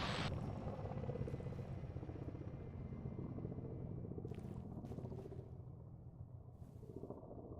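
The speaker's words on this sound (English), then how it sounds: "Enemy chopper. Chopper KA-50. KA-50, yeah." Ka-50 enemy attack helicopter in a tactical military video game, a continuous distant rotor and engine rumble droning steadily throughout.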